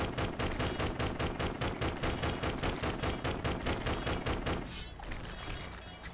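Guns fire in the Wii video game Death Jr.: Root of Evil, a fast, evenly spaced string of loud shots that runs for several seconds, then stops and leaves a fainter noisy tail.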